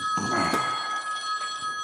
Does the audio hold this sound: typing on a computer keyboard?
no